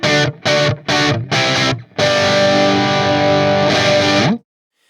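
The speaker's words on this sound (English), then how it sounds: "Here I'm using the exotic EP booster to do the same thing with this amp" An electric guitar plays through an Orange OR50 amp boosted by an Xotic EP booster, with a few short distorted chord stabs and then a long sustained chord that cuts off sharply.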